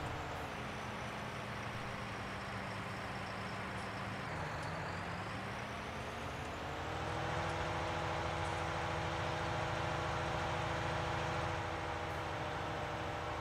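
Tractor engine idling in Farming Simulator 19, a steady low drone with harmonic hum that shifts pitch briefly around the middle, then settles at a slightly higher, louder idle for the rest.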